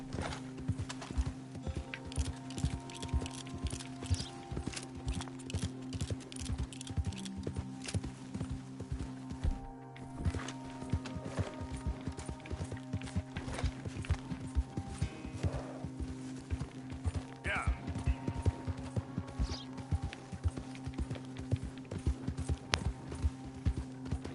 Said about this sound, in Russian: Лошадь.